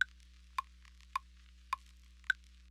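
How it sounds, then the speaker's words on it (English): Sparse, soft pops and ticks at a regular pace over a low steady hum, like faint vinyl crackle. "under that is this vinyl crackle ambience"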